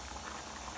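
Rice boiling in a pot on the stove while a home lunch is cooked, a steady close bubbling and simmering with a soft hiss of steam, continuous and fairly quiet.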